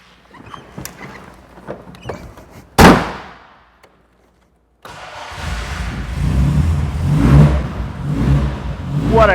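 1966 Triumph TR4A with a 2.5 liter inline four engine, first faint ticking and cranking, then a sharp burst, a short silence, and a loud catching engine that revs up and down.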